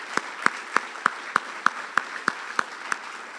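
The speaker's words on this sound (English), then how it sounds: "A nice big round of applause for the parents." Clapping at a senior athletic awards ceremony, heard as a single steady series of about a dozen evenly spaced, fairly close claps with a faint crowd wash beneath.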